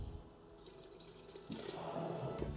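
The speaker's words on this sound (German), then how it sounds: "Ich gebe 340 Gramm Wasser bei, kaltes Wasser und 110 Gramm Milch" Cold water and milk poured into a mixing bowl for light wheat bread dough, a soft liquid trickle and splash that grows fuller partway through, quiet and close, with no talk.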